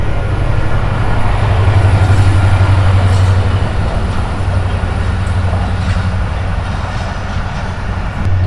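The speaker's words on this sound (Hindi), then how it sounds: "तो भाई ये ट्रेन का गुजर भी यहाँ से बिल्कुल करीब से है, इसलिए काफ़ी शोर है।" A train rolls past very close by near Agham Kot in Sindh, a loud, continuous rumble of wheels and carriages with a low droning hum that stays steady throughout.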